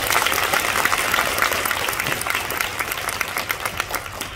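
Audience applause fills a debutante cotillion hall, a dense, lively clatter of many hands that gradually thins and fades toward the end.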